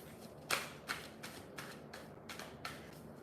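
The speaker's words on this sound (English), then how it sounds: "let me push it down so y'all can see me shuffle out" A deck of cards being shuffled close by, with a series of quick riffling bursts at uneven intervals, fairly soft and with no talk over them.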